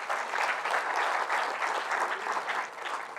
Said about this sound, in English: Please applaud for Aruna.